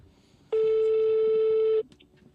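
A steady telephone tone, such as a busy or ringback signal, plays through a phone held up to a microphone. It is one continuous loud beep lasting a little over a second, with quiet background noise before and after it.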